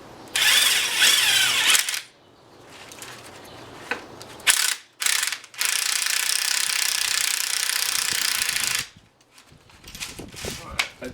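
Spring compressors being tightened on a Cadillac STS strut give off loud, close bursts of rapid ratchet clicking, broken by short pauses and a few single clanks.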